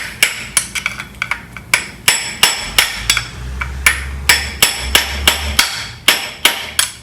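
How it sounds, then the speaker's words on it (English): A hammer taps repeatedly on the case of a seized VW Beetle engine, about twenty sharp metallic strikes in a fairly steady rhythm, loud and close, with a low rumble underneath in places. "going to tap lightly here and here at the end of this. See if we can get the crack open."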